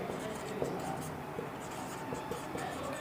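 Someone writes on a board during a maths lesson on straight lines, making steady scratchy strokes and taps close by under continuous speech.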